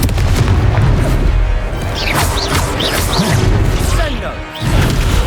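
Confringo fire spell blasts in Hogwarts Legacy combat, a dense wash of crashing, booming impacts with whooshing spell effects and a steady low roar, loud and continuous, with voices calling out over the fight.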